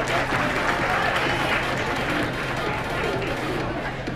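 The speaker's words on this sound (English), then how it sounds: "A round of applause as they file off stage." Steady crowd applause at a bodybuilding physique competition fills the whole stretch, dense clapping mixed with murmured chatter from the audience.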